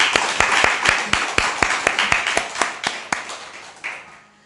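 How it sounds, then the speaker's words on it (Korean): A church congregation at a Suwon prayer retreat claps in praise to God, sharp slaps fairly rhythmic and close, about fifteen strikes that slow and thin out toward the end. "자, 하나 앞에 영광의 박수를."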